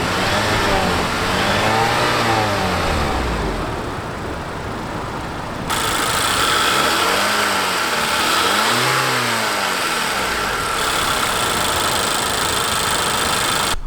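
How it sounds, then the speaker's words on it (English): A 2017 Acura TLX's naturally aspirated 2.4-liter direct-injection inline-four starts and revs, rising and falling in several loud, close sweeps between steadier idling stretches. "let's start up this engine here first of all"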